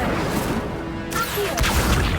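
An Incendio fire spell cast in Hogwarts Legacy gives a brief whooshing fiery burst over a dense game soundscape, followed by a sharper crackle.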